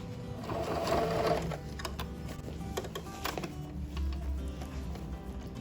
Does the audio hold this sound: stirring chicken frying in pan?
no